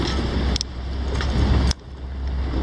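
Cars passing on a street in Valparaíso, Chile: a continuous traffic roar with a vehicle rushing close by, broken by brief sharp clicks and a sudden dip before the noise returns.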